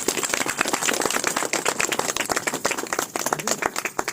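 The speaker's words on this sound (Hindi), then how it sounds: "रन्नू मैम के लिए एक बार जोरदार तालियां हो जाए।" A crowd claps hard at a company meeting in Rajapur, Prayagraj, with dense overlapping hand claps that swell and dip under occasional voices.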